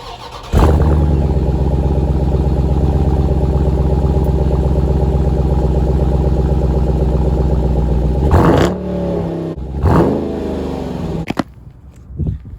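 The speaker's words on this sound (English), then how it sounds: "So now I'm going to fire up the vehicle and get some revs" A Dodge Durango SRT engine cranks and starts, then idles loudly before being revved several times near the end, with sharp throttle bursts through the exhaust.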